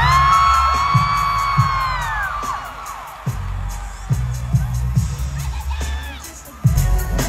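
Crowd at a concert cheering, whooping and yelling loudly in a large venue, sustained roar with scattered shouts and high whistles, close and dense throughout.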